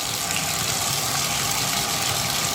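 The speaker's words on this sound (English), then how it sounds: "So let's turn this water on." Water gushes steadily from a newly installed bathtub spout, a constant full-bodied rush with no break and no voices.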